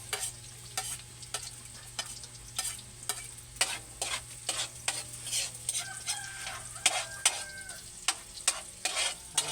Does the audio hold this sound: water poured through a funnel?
no